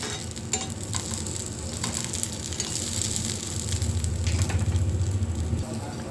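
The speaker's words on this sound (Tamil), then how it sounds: "இப்போ இதை நல்லா இதில் வதக்கி விடுறோம் இந்த எண்ணெயில்" Turkey berries sautéing in oil for a chutney over a lowered flame, giving a steady, continuous sizzle close by with occasional stirring scrapes and no talk.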